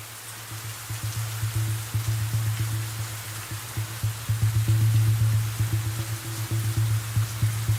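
Steady rain falling, a continuous hiss of drops with a low rhythmic thrum underneath that swells slightly toward the middle, with no voices.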